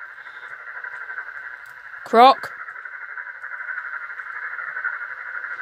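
A steady electronic drone tied to William Afton in the Five Nights at Freddy's video game hums continuously, broken once by a short warbling burst as a voice briefly speaks.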